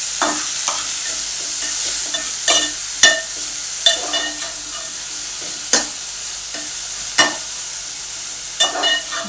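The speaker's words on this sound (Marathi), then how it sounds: "एक वाटी कोथिंबीर घेतली होती आपण छान अशी परतून घेऊया" Coriander leaves sauté in a pan, a soft sizzle punctuated by regular sharp scrapes and taps of the spoon, close up with no talking.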